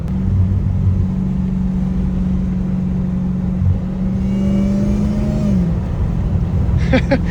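A Dodge Hellcat Redeye engine with a steady low droning whine and rumble that holds and rises slightly, then drops off near the end, loud and close, with a few faint clicks after it.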